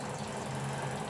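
A rice steamer cooks rice in a home kitchen, producing a steady, faint hiss and low hum that stays even throughout the short stretch.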